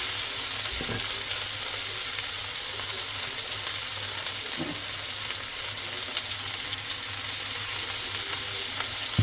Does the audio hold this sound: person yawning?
no